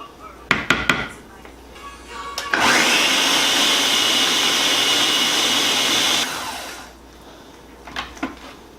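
An electric blender whirs loudly for about four seconds, blending a coconut cream filling made with coconut oil and syrup. A few sharp knocks and clatters come before and after the run.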